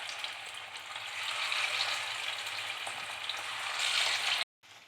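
Fish pieces sizzling in hot oil in a pan, a steady close crackling fry that swells slightly louder before cutting off abruptly near the end.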